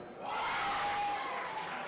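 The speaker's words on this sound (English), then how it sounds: "I expect to hear a large cheer" A crowd at a men's fencing trophy final cheers and shouts, a broad swelling roar from many voices that rises quickly and stays loud and sustained at a moderate distance.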